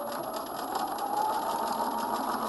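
Sewing machine running steadily while stitching a coat seam, a continuous close mechanical whir with a fine rapid needle rhythm and no talk.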